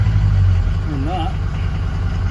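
A Ford 6.0 Powerstroke diesel engine idles steadily with a low, even rumble that stays constant throughout, with no talk over it.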